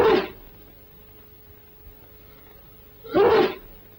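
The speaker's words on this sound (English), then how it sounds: "Sneeze." A person sneezes twice, one sharp burst at the start and a second, fuller one about three seconds later, close and loud against a quiet background.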